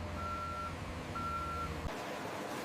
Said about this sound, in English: Multiple trucks unload at once, ensuring a steady supply of raw materials to the factory.